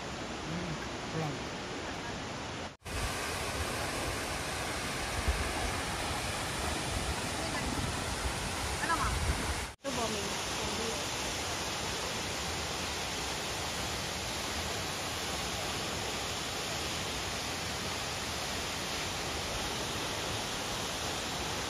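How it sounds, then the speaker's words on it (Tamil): Rainbow Falls in Meghalaya pours down in a constant broadband roar, loud and close, broken by two brief cuts. Someone speaks now and then beneath the steady rush of water. "அப்படியே அந்த தண்ணி மேலே வந்து விழுகுது, சில் சில் சில் சில்னு விழுந்துட்டு இருக்கு"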